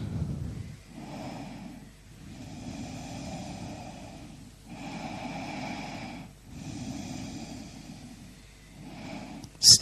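Slow, calm breathing during a guided stretching exercise: several long, soft breaths in and out at an even rhythm, close and unhurried, ending with a brief sharp noise.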